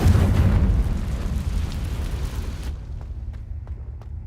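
A Confringo fire spell explodes in Hogwarts Legacy as a loud, rumbling boom that roars and fades over a few seconds, ending with faint clicks.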